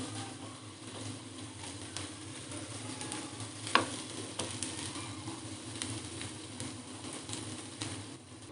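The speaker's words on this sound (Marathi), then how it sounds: "आपण पूर्ण राईस व्यवस्थित या भाज्यांमध्ये मिक्स करून घेणार आहोत" Cooked rice being stirred into sautéed vegetables in a pan for an Italian-style rice dish, a steady soft sizzle with scraping stirs throughout and one sharp clink of the spoon midway.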